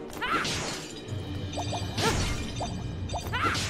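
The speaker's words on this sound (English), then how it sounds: "She's smashing pots like this is uh," Clay pots shattering one after another in Ni No Kuni II, several sharp breaking crashes and thwacks spaced across a few seconds, each with a bright crack and brief scatter, over steady game background sound.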